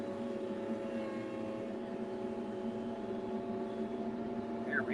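A hay tractor's engine runs steadily at close range with a continuous droning hum, holding an even level throughout with no talk over it.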